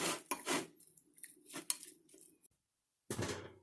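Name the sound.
stirring food coated in cooking oil in a pan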